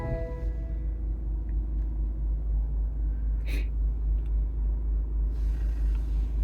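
A diesel BMW X3 20d xDrive, a 2019 SUV, idles steadily after a push-button start, a continuous low rumble holding near and even throughout with one brief higher hiss partway through.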